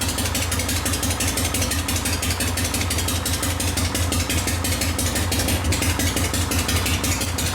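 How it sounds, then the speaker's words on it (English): A 1973 Harley-Davidson Shovelhead 74ci motorcycle engine idles steadily, a deep continuous rumble with a regular fast pulsing throb, close and loud throughout with no talk. "Idle speed's a little low."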